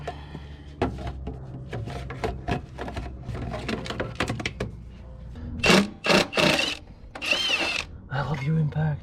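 An impact wrench works bolts loose while a Miata engine is being pulled, giving several sharp rattling bursts among clanks and tool handling, loud and close, with some talk mixed in.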